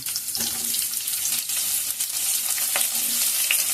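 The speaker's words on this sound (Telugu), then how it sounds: "ఉల్లిపాయ ముక్కలు కూడా దీంట్లో వేసుకొని వీటిని కూడా మనం బాగా వేయించుకోవాలి" Chopped onion pieces fry in a pan for a potato curry, a continuous bright sizzle with brief stirring rustles, close and loud, no talking.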